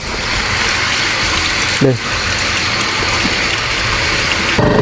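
Running water at night in a village field, a steady broadband rush that continues throughout, heard close by with a brief vocal sound partway through.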